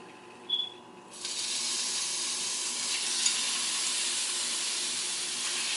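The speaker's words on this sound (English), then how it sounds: "We're going to put a little bit of oil, about a tablespoon, into our pan and get the shrimp going." Bite-sized shrimp pieces hit about a tablespoon of hot oil in a pan after a short faint hiss. A sudden loud sizzle follows and holds as a steady, bright hiss to the end.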